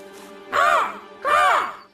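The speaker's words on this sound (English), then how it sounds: "The crows yelled." Two crows building a nest give loud harsh caws, two drawn-out calls separated by a short pause, close and dominant over a faint steady background hum.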